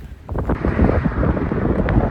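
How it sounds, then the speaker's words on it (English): Steady wind buffeting a microphone on the Appalachian Trail near Interstate 77, a low rumbling roar that swells and gusts throughout with no voices. "Just windy."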